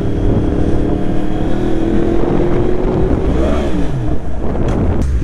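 Motorcycle riding with a helmet-mounted camera, a steady engine drone with shifting pitch as it rolls along, buried under heavy, constant wind buffeting close to the microphone.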